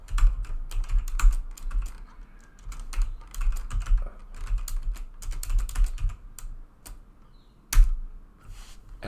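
Quick, irregular clacking of a computer keyboard being typed on up close, bursts of keystrokes with short pauses between them and one sharper thump near the end, no talking.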